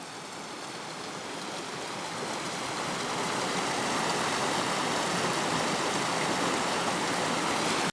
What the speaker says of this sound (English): little streams down below